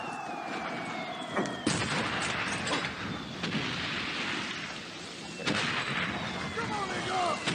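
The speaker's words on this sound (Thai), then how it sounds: "ต้องมีปืนใหญ่ตรงนั้น" Artillery cannon fire booms in the World War I video game Valiant Hearts, several heavy blasts spaced a few seconds apart over a rumbling battlefield backdrop of whistling shells.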